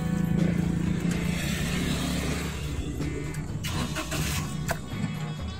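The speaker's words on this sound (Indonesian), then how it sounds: "Sekarang saya mau menghidupkan mesin ya" A 2014 Daihatsu Ayla X petrol car engine starts and settles into a steady, close, even idle hum with a faint higher whine, and no voices over it.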